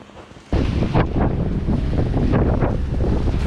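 Strong wind gusting to about 24 knots buffets the microphone aboard a sailboat in the Gulf Stream, with waves and rushing water churning loudly underneath after a brief quieter moment.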